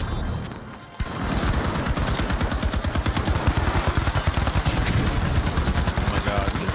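Turret fire in the video game The Finals: a rapid, steady stream of automatic shots, loud and close, running continuously after a brief pause at the start.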